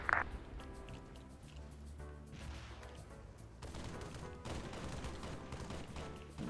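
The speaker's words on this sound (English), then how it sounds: "There goes the rockets." Rockets firing in a military video game, a rumbling barrage of launches and blasts rolling on over several seconds, with a sharp burst right at the start and dense, continuous explosive noise after it.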